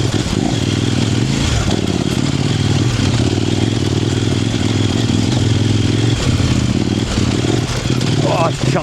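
A Kove 800X Rally mid-weight adventure motorcycle being ridden off-road, its engine droning loud and steady throughout with wind rush and some clatter over rough ground.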